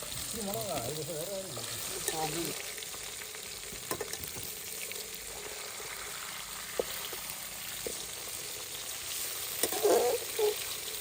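Fish sizzles and spits steadily in hot oil in a pan, a close, continuous frying hiss with a few clatters as pieces are turned, while people talk over it.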